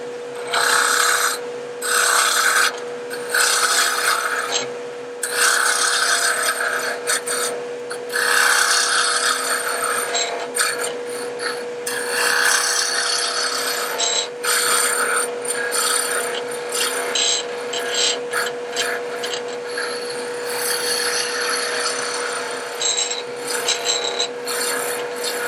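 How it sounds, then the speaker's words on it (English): A roughing gouge shapes a spinning piece of wood for a tree topper on a lathe, with continuous raspy scraping in uneven strokes over a steady motor hum, close and loud throughout. "Now that was done with the roughing gouge"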